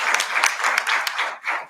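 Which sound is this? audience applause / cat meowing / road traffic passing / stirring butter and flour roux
audience applause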